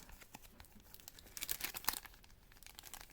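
Cardboard and plastic crinkle and tear as the card backing of Acceleracers toy car packages is pulled open, with soft rustling building into sharper crisp rips up close.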